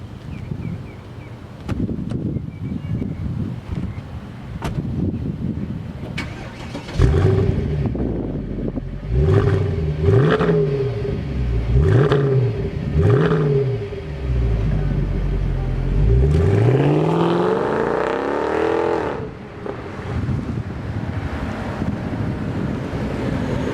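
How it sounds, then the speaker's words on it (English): A black 2008 Mercedes-Benz S63 AMG sedan with a 6.2L V8 fires up and revs in several rising bursts, then pulls away in a long accelerating sweep, heard close with heavy wind buffeting on the microphone. "Let's see how this car is fast."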